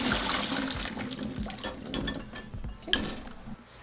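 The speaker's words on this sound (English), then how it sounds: "and drain the water." Boiled water pours out of a pot of chiles as it is drained, a splashing, gurgling rush with light metallic clinks of the pot, close and alone.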